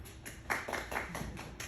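Thin round of applause from a small audience at a presentation, a few distinct claps merging into a brief patter, fairly faint and distant.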